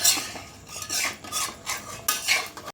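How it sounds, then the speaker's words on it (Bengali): Metal lid placed on a cooking pot of chicken korma on a low flame, several scraping and clinking metallic contacts in uneven rhythm, close and moderately loud with no talk. "এটাকে ঢাকনা দিয়ে দিচ্ছি।"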